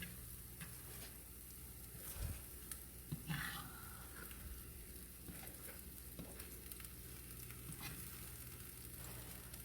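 Eggs frying gently in a pan for a country breakfast, a soft continuous sizzle with light crackles and a few quiet scraping touches as the eggs are pushed back, faint and steady throughout.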